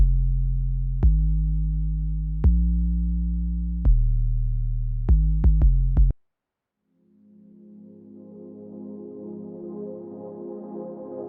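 A deep synth bass patch from an Ableton ambient jungle session plays a run of sustained, stabbing notes with sharp attacks. It cuts off abruptly, and a soft, hazy textured pad then swells in after a brief silence.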